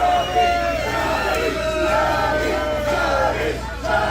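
A sold-out crowd at an indoor wrestling show in a Phoenix brewery roars and cheers without a break, a dense wall of voices with shouts rising out of it.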